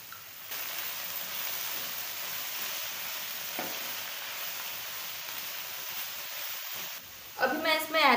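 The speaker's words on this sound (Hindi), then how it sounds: "मेरी वेजेस जो है वो सारे सॉटे हो गए हैं।" Vegetables sauté in a hot pan for Hakka noodles, giving a steady, dense sizzle that runs almost the whole time, with a brief stir near the end.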